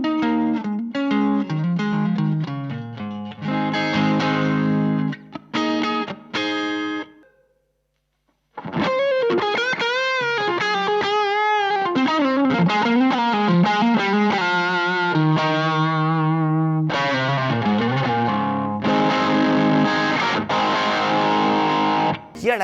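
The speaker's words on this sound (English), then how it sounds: "the comping tone, the bassman, reacts pretty well to the Maxon overdrive" Electric guitar comping through a Bassman amp pushed by a Maxon overdrive, strummed chords with a gritty, chorus-tinged edge, loud and continuous apart from a brief pause, no talk.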